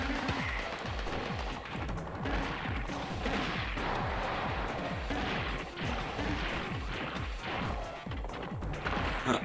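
A rapid-fire weapon in the Gato Roboto video game shoots in a dense, continuous stream of punchy blasts layered with impact crashes, loud and steady throughout, with no voices.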